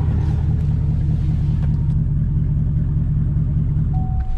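A Chevrolet Camaro ZL1 engine idles with a steady, close, loud low rumble that holds evenly throughout.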